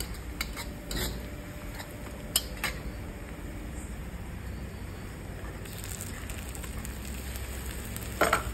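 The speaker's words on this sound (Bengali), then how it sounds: "আদা রসুনের পেস্টটা ঢেলে দিলাম।" Ginger garlic paste sizzling in a pan while cooking chicken kosha, a faint, steady fry hiss with a few sharp clicks and knocks of utensils, heard close with no speech.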